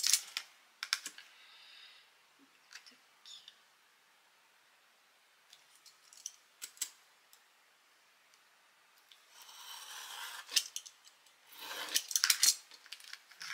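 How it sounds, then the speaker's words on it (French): Scissors or a cutter snip paper for a scrapbook page, making scattered close crisp clicks and rustles with a denser run of cutting near the end, no talk. "on va venir découper"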